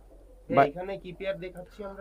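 A golden pair of Pakistani tournament pigeons coo at close range in short, throaty bursts that rise and fall in quick succession.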